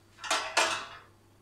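Two quick clinks and scrapes of cookware close by as potatoes and peppers are set into a cooking dish, the second knock slightly louder, then a short fading ring.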